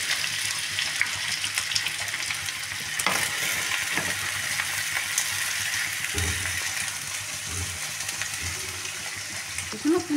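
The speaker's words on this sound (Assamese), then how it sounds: "পিঁয়াজখিনি অকণমান ভাজি ল'ম ৰঙচুৱা কৰি" Onions frying in mustard oil, a steady close sizzle with occasional stirring scrapes and knocks, and no talk over it.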